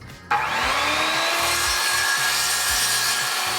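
A power saw rips wooden furring strips for interior wall work, starting abruptly after a brief moment and then running as a loud, steady close-up cutting whine with a rough, sustained texture throughout.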